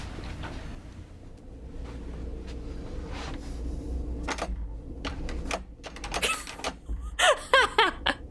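A door creaks and rattles in a series of short, sharp bursts that grow louder toward the end, including a run of squeaky, scraping creaks over a low, steady background hum.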